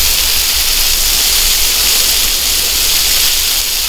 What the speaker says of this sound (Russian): После того, как посадили, обязательно полить.